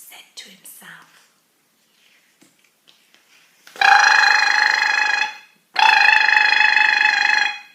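A voice imitates a ringing alarm clock in two long, loud, buzzing bursts with a short gap between them, after some quiet breathy sounds.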